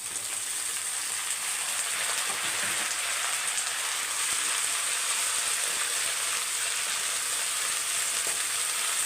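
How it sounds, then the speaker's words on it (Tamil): Drumstick leaves sautéing with onions in a hot pan on a stove just switched off, a dense, even sizzle and crackle that stays loud and steady throughout. "இப்போ அப்படியே அந்த ஹீட்லேயே வதக்கி விட்டுருங்க"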